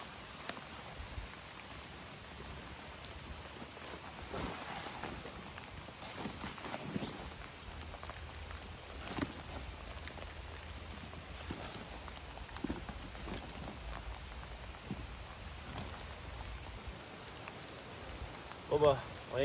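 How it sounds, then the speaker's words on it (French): Steady rain patters across the whole stretch while bivouac camping in Brittany, a soft even hiss with scattered heavier drops and occasional faint knocks, no voices. "Il pleut bien comme il faut."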